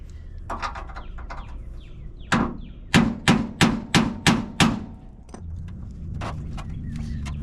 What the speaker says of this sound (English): That hammer, not only does it set the screwdriver into the screw, but it also dislodges the grit.